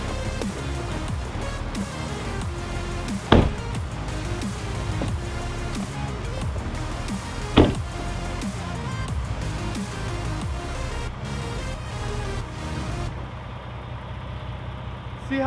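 A Ford Bronco Raptor drives off-road through snow, its engine a steady close drone inside the cabin with two sharp thumps from bumps, and the sound cuts off near the end.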